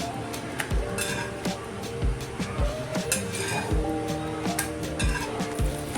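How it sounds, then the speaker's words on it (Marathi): Puris roasting on a hot griddle, a low sizzle running under repeated metallic clinks and scrapes of a spatula against the pan, close and fairly loud, with brief speech-like sounds in the background. "एका बाजूने ही पुरी व्यवस्थित भाजून घ्यायची"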